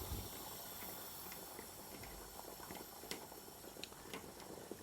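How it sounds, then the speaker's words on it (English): A pot of wild garlic and organic cabbage soup boils quietly, with a faint, steady bubbling hiss and scattered small pops. "that's been boiling away now for a couple of minutes, probably about 5 minutes actually"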